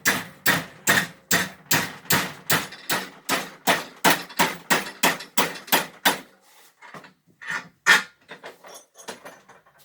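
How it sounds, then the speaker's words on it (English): Hammer blows on hot metal at a forge as it is bent into a 90 degree angle: a steady run of about fifteen sharp, ringing strikes, then sparser, quieter taps, close and loud. "just hammer it out into a 90 degree angle"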